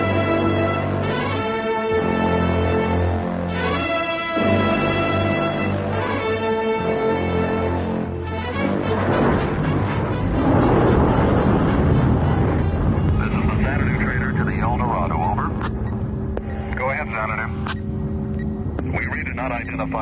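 An approaching spaceship effect from a sci-fi audio drama rises from a hum into swelling, whistling sweeps that grow louder as it nears. Voices are heard over the effect.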